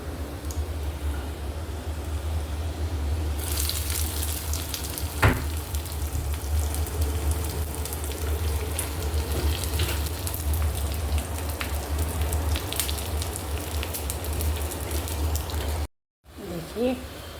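Garlic and small onions fry in a pan, a steady broadband sizzle running continuously and fairly loud throughout, with a brief sharp clink partway through and a short cut near the end.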